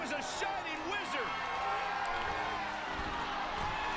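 A wrestling arena crowd in WWE 2K23 cheers as a steady roar of noise beneath clear commentary voices, which keep talking throughout.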